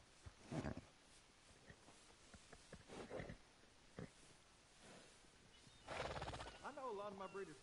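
A horse at a stable in the video game Red Dead Redemption lets out a whinny near the end, a rising and falling neigh after scattered snorts and soft shuffling; a voice speaks nearby.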